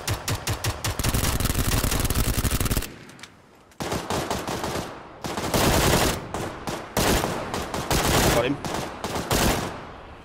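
Video game gunfire rattles in loud, rapid automatic bursts close up, broken by a short lull before the shooting resumes, with faint voices in the mix.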